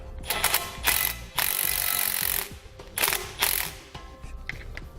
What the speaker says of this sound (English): you want to come back with an 11/16 socket and wrench and snug them up just a little bit